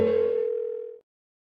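An unanswered phone call rings out in the video game Persona 4 Golden: a single steady electronic ring tone, loud and close, holding for about a second before cutting off into silence, with no voices.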